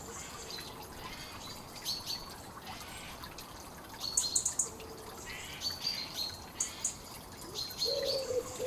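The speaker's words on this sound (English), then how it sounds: "Young female blackbird, always thirsty." A young female blackbird in a summer garden gives short, high calls in bursts against a steady outdoor hiss, with a few faint chirps from other birds in the distance.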